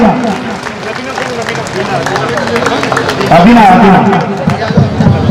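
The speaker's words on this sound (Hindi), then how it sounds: "तालियां बजे तालियां।" Audience at a children's talent award ceremony clapping for young award winners, dense steady applause with crowd chatter and voices mixed in, fairly loud and close.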